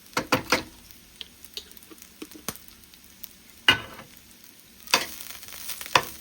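Rainbow peppercorns and spices fry in a pot for rice and beans, giving sparse crackles and sharp scraping bursts over a quiet, low sizzle, close by with no talking.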